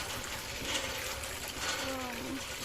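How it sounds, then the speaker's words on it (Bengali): Water runs steadily from a tap or hand pump into a container, a continuous trickling splash with some background noise, close by and alone without talk. "আমি কলে জল ভরছি।"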